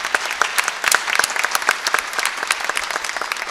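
An audience claps in appreciation, a dense burst of many hands making rapid, uneven slaps that stay fairly loud for a few seconds, with no speech over it.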